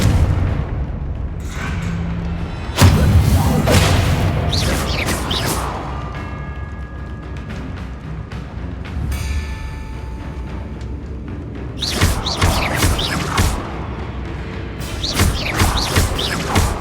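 Repeated booming blasts from the Confringo explosive spell in Hogwarts Legacy on PS5, heavy impacts with crackling debris and rumbling tails recurring across the stretch amid game effects.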